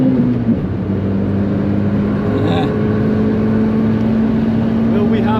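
A heavily modified Daihatsu Copen drives at speed around the Nürburgring, its engine a loud, steady droning hum heard from close inside the car, holding a nearly constant pitch throughout.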